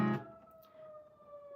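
An emergency siren sounds from outside, a faint steady wailing tone that persists on its own after a brief louder burst at the start.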